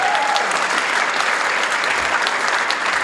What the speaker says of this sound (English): Let's give her a huge round of applause for that